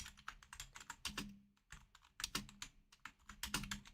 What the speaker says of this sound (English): Getting used to a physical keyboard.